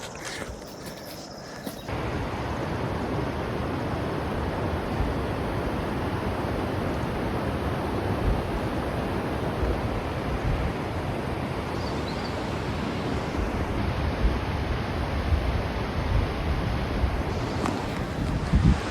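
Snowmelt water rushes in a stream below a bridge on the Nandi Kund trek, a steady, loud broadband roar that holds evenly for the whole stretch with no voices.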